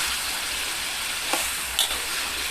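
Sweet pork frying in hot oil, a steady loud sizzle throughout with a couple of brief stirring scrapes, no voices.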